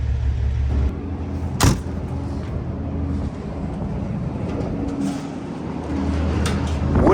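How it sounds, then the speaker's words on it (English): Strong gusting wind buffets a high vantage point near a truck stop amid dust storms, a broad, steady roar with low rumbling layers and brief whooshing bursts, loud and continuous with no talk. "Windy up here. This stuff is moving."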